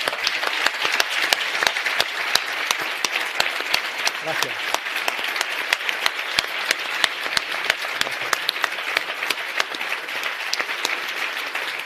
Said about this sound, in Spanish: os voy a pedir un aplauso para toda esta gente porque es increíble